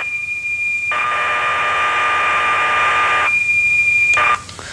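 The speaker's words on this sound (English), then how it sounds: "The program is in fact stored as a set of audio tones or whistles." Computer program stored on tape plays back as loud, steady audio tones, a continuous high whistle with a brighter buzzing data burst lasting a few seconds before it changes pitch and cuts off.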